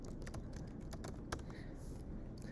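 Quick, light keystrokes tap on a computer keyboard as a command is typed, a short irregular burst of soft clicks close by in a quiet room.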